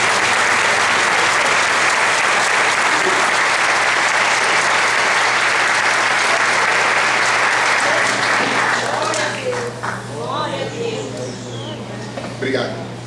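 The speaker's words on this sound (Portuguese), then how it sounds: "Você pode aplaudir a Jesus?" A church congregation applauds loudly and continuously, a dense wash of clapping that holds steady and then thins out toward the end as voices begin to rise over it.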